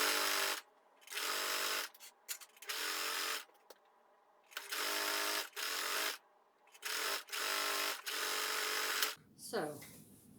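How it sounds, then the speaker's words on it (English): A sewing machine stitches folded tote bag fabric in repeated steady runs of a second or so with short gaps, close and loud, ending with a brief rustle of handling. "fold in half and stitch at the width of the presser foot"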